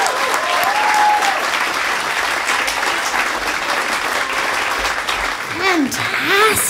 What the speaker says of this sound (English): Clap your hands for Maria Bamford.